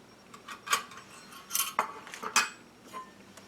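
A large saucepan is handled in a kitchen, giving several sharp metallic clinks and knocks spaced irregularly, close and fairly crisp, with no talk.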